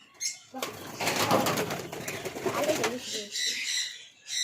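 Pigeons in a loft give off soft coos and bursts of wing flapping, close by, with a voice speaking intermittently over them.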